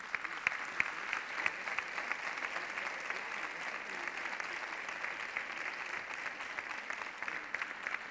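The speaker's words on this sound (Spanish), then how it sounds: "Y ahora sí, fuerte el aplauso." Sustained applause from an audience at a sports awards gala, a steady dense clapping that fills the hall evenly and continuously, with no voices standing out above it.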